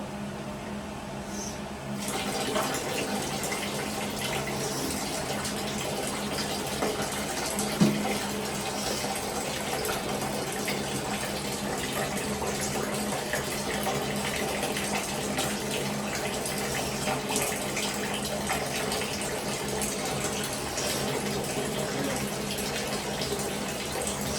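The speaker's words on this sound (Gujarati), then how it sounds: "શાવર ટાઈમ સ્ટાર્ટ થઈ ગયો છે" Tap water runs in a steady, continuous gush for a baby's shower at bath time. The flow is moderately loud and unbroken, with only a brief faint knock partway through.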